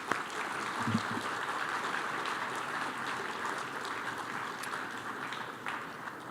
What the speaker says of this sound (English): great round of applause to everybody honored today